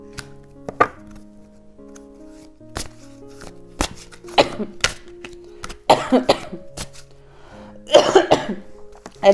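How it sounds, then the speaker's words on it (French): A woman coughs several times up close, in short harsh bursts scattered between quiet stretches, over soft sustained background tones. "Je tousse beaucoup trop là."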